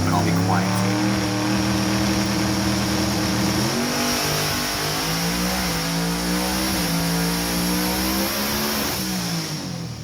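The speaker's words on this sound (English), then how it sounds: "the car's going to go on its trans brake, it's going to load up, and then just going to fly" A drag car on a dyno, held on its transmission brake, roars at high, steady revs, its pitch shifting upward partway through as it loads up, loud and continuous throughout.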